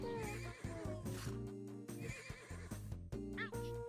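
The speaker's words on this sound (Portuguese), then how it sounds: "Cavalos, boa." Horses in the game Tasty Planet Back for Seconds neigh and whinny repeatedly in quick, wavering cries, mixed with hoof clip-clops and game music, fairly quiet overall.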